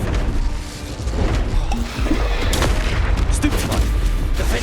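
Fire spell blasts from Hogwarts Legacy combat on PS5 boom out in heavy bursts over a dense, continuous wash of battle noise and rumbling impacts, loud throughout.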